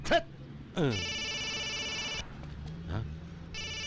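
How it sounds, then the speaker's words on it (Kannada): A telephone rings in two steady, buzzing bursts separated by a short pause, moderately close, with a faint voice-like sound between the rings. "ಯಾರ್ದು ಫೋನು? ಅವಂದೇ ಇರ್ಬೇಕು."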